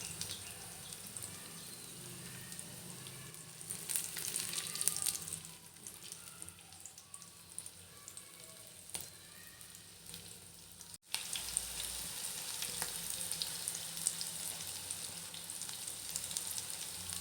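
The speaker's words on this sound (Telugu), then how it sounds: "ఇలా డీప్ ఫ్రై చేసుకోవాలి ఒక పక్కన కదిలి టర్న్ చేసుకుంటున్నాను" Bitter gourd pieces deep frying in oil over a low flame, a steady broadband sizzle that dips briefly midway and resumes loud after a short break, with faint turning and stirring noises.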